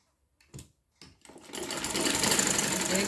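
A sewing machine stitching a fabric sleeve: a couple of brief starts, then a steady, fast, continuous whirring rattle that runs to the end, close and fairly quiet.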